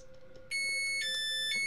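A fire alarm door alarm in a Roblox train video game, a sharp electronic beeping tone that starts abruptly and repeats in steady pulses over a constant background hum.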